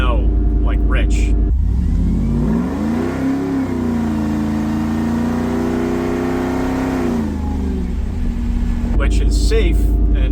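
A supercharged Ford SVT Lightning pickup runs at wide open throttle on a dyno, its engine roar climbing and holding loud for several seconds, with someone talking before and after the pull.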